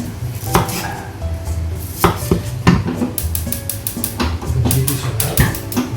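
A metal cooking pot for chicken rice is handled on the stove, giving close, loud clanks, knocks and scrapes in irregular bursts over a low background hum.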